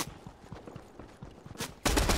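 Gunfire in the Fortnite video game, a quiet stream of shots in the background that swells into a louder, denser burst near the end.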